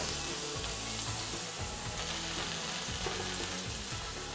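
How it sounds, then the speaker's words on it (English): Pork balls are pan-frying in hot oil with a loud, steady, close sizzle that holds throughout, with faint clicks and shifts underneath and no talk. "let's add a bit of oil because we're gonna pan fry the pork balls"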